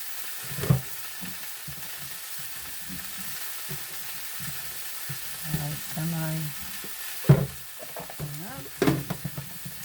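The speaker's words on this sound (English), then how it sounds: "I'm going to let these wilt, cook for a few minutes." Collard greens coated in fat cook down in a frying pan with a soft, low sizzle, broken by intermittent stirring and scraping bursts and a few faint voice sounds in the background.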